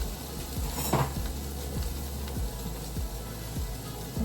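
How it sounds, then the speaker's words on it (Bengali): Onions and dry spices sizzle in a hot pan while a utensil scrapes and stirs at a steady pace, several soft strokes against the metal. "এবারে শুধুমাত্র ওই শুকনো মশলা দিয়েই মশলাটা কষিয়ে নিব"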